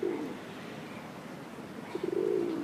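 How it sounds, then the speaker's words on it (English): Pigeons coo close by in Ireland, two soft throaty rolling coos separated by a brief pause, over faint outdoor background noise and no talk. "there are pigeons right here."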